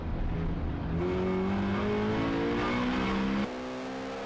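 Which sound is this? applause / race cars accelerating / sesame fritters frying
race cars accelerating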